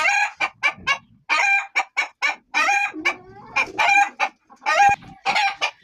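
Shamo fighting chickens cluck in short, rapid bursts close by, with a rooster crowing partway through; no people talking.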